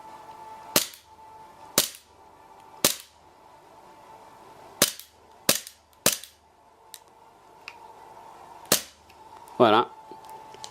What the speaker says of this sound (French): j'ai mis un peu de gaz hein, pour vous montrer un peu comme il tire